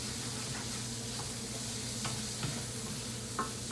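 Fish frying in a pan of bacon grease with added olive oil, a steady close sizzle with a few soft clicks and stirring scrapes, no voices.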